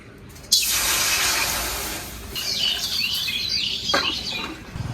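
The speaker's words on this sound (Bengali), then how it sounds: "কড়াইতে এবার জল দিয়ে দেবো মাছটা ভাপানোর জন্য" A sudden rush of water poured into a wok for steaming hilsa fish, a loud splashing hiss that carries on for a few seconds, then shifts into steadier bubbling and spattering.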